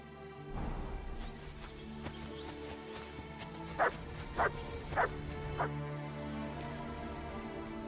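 Dog Mutt from Kingdom Come: Deliverance II barks four times in a quick, loud series of sharp yelps over a steady game ambience of music and outdoor background, with no talking.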